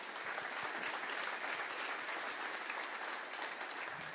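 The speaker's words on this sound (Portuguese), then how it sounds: "Aplauda Jesus, por favor" A church congregation claps steadily and continuously, a dense even wash of applause filling the room without pause, moderately distant.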